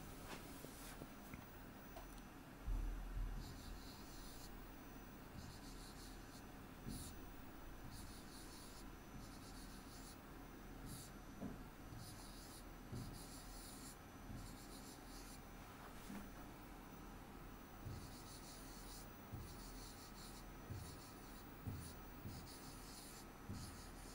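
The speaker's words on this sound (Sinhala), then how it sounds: "මම මෙතනට පාසලේ නම ලියන්න දානවා." Pen or marker writing out a school name on a board or paper during a scholarship-exam class, with soft scratchy strokes in short bursts over steady room hiss, faint and close.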